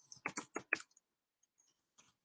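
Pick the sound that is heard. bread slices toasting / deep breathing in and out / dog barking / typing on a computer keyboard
typing on a computer keyboard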